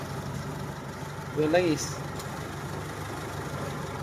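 A Mitsubishi Adventure Gen 2 engine idles steadily and quietly in the background, a low even hum running the whole time, while someone speaks briefly over it.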